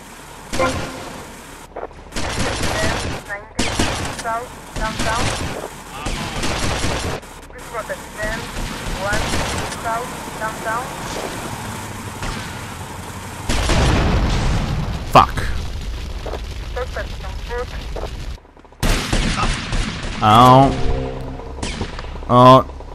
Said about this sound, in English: this shotgun actually sounds pretty good